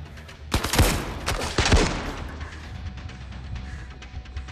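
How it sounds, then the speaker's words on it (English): Rifle fire in the VR shooter Zero Caliber on Oculus Quest: a couple of loud close bursts of shots early on, followed by scattered fainter pops and background noise. "Man, the rifle's really good, I have to say."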